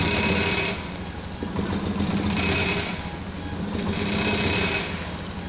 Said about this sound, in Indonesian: ini motornya susah hidup dan ketika hidup itu digas nggak mau ya teman-teman